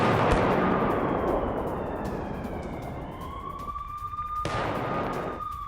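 Artillery fire from a Swedish cannon used by Ukraine: a loud, rumbling, broadband roar, a sharp blast later on and a thin whistling tone trailing off, with no talking.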